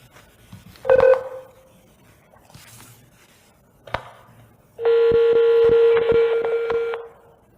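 A telephone line intercepted over the public switched network carries a clear electronic tone, then a few short clicks, then a longer burst of steady dialing tones broken by quick keypress ticks, loud and close.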